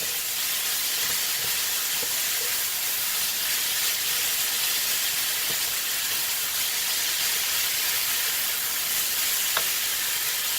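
Peppers hit a hot pan for sauteed yam leaves and set off a loud, steady sizzle, a bright frying hiss that carries unbroken with a few small pops and no talking.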